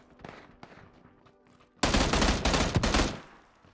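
An M16 rifle in PUBG fires a loud, rapid automatic burst lasting over a second, preceded by quieter game sounds and a few faint clicks.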